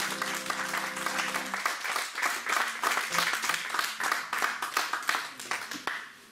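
Church congregation applauding to acclaim the Lord, a steady run of hand clapping from many people that carries the whole stretch, with a held organ-like tone underneath at the start.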